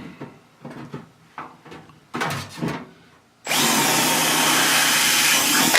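A few clunks and scrapes of handling tools, then a power drill with a number 15 bit starts up and runs continuously at a loud, steady whine, close by, drilling holes in a Piper Super Cub's upper boot cowl.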